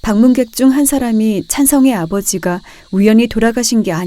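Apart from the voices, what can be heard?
No distinct noise like a dog, phone or traffic.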